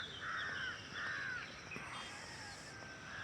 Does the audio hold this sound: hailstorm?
no